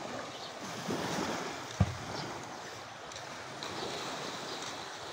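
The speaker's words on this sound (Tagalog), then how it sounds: "Yan ang dagat." Steady wash of gentle surf from a calm sea on a sandy beach, with wind rushing across the microphone, a soft thump partway through, no voices.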